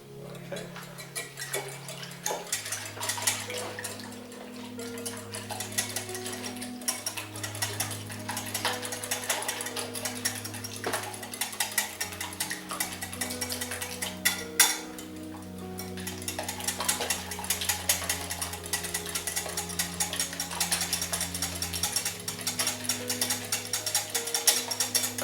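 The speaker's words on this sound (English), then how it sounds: "I'm whisking this until it gets a little bit frothy and it's well mixed together." A whisk beating quiche filling in a bowl, a fast steady clicking and scraping rhythm that runs throughout, with background music underneath.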